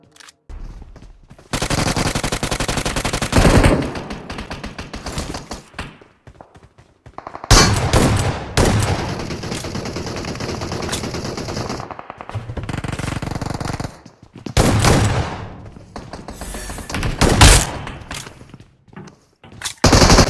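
Automatic and single gunfire in the BGMI battle royale game comes in long, loud rattling bursts separated by short gaps, with sharp individual shots near the end.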